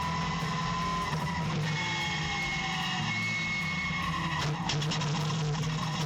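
EuroNASCAR stock cars race at the Zolder circuit with a loud, continuous engine roar, tires squealing and skidding through a corner, and the pitch shifting as cars pass close by.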